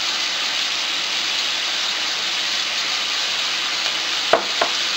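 Ground pork sizzles steadily in a hot pan with garlic powder mixed in, a dense continuous fry broken near the end by a couple of sharp scraping stirs of the spatula.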